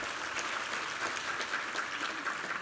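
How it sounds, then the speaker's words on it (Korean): Church congregation clapping during a Sunday worship service, a soft, even patter of many hands heard from a distance, steady and fairly faint throughout. "우리 하나님께 감사와 영광의 박수 올려드리겠습니다."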